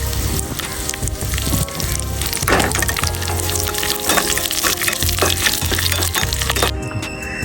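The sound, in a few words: mustard seeds spluttering with dried red chilies frying in oil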